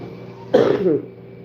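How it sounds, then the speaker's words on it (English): A single short, husky cough close by, rising out of quiet room tone and quickly falling back to silence. "Let me cough."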